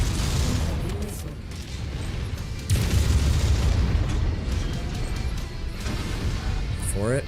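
Missile explosions in a mech combat video game, heavy low booms and crashes rumbling close and loud, with a fresh impact partway through over continuous battle noise.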